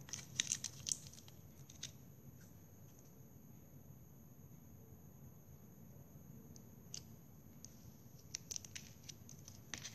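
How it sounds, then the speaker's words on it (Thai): Scissors snip through plastic drinking straws while petals are cut for a straw flower, giving faint, sparse clicks and crisp cuts, a few clustered near the start and end, over quiet background. "แล้วก็ใช้กรรไกรตัดค่ะ"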